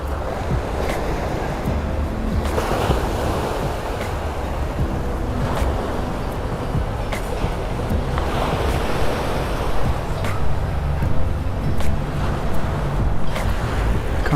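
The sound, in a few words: sea waves on the shore in Saranda, Albania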